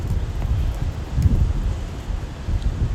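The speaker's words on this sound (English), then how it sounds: "there must be about 25 or 30 k's of wind today" Strong wind buffets the microphone on a beach during a drone flight, a steady low roar with gusty surges throughout.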